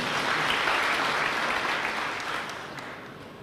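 A church congregation breaks into dense, sustained applause during a sermon, a broad wash of many hands that holds steady and then tapers slightly toward the end.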